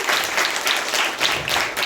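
Audience applause welcoming a singer in the Satkar hall at a program for blind women, a dense steady crackle of many hands clapping throughout, loud and close with no talk over it.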